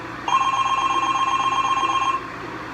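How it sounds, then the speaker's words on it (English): A telephone in a hotel room rings once, an electronic trill lasting about two seconds, clear and fairly close, with quiet before and after. "when the phone rang"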